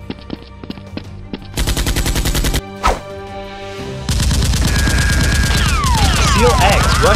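Loud gunfire in a staged Nerf war as robbers chase and shoot, with rapid, sustained automatic bursts that stop and restart, ending in a dense, continuous volley.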